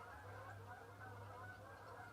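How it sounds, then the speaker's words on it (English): Geese honk continuously in a distant chorus, a layered, steady clamor carried over open ground with a low hum beneath. "Those are some loud geese, I'll tell you."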